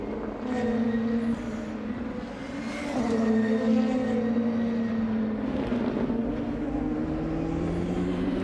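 Audi DTM race car lapping the Nürburgring during qualifying, a sustained engine note rising and falling as it runs downhill, heard from a distance and steady throughout.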